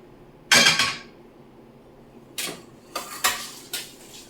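A roasted bitter gourd chutney mixture is tipped out of a metal pan onto a plate, giving a loud close scraping clatter, a pause, then several shorter metallic scrapes and clinks.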